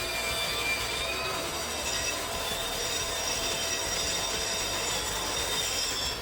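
A cordless angle grinder grinds a concrete floor screed with a harsh, continuous high-pitched scraping whine, loud and close, steady throughout with no talk.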